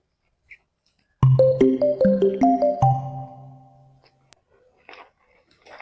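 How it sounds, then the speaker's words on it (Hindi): A phone ringtone plays a short melodic sequence of bright electronic tones, clear and close, then fades into quiet with a few faint rustles. "फोन आवत बा।"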